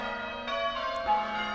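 Church bells ringing out across the English countryside at Kingston on Soar, a steady sustained peal with overlapping tones, moderately distant and heard alone.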